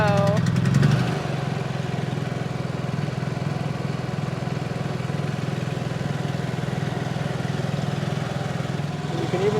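A portable generator runs steadily inside a homemade weatherproof enclosure box, a continuous mid-pitched engine drone that stays even throughout, with a brief louder burst at the start and people talking faintly over it.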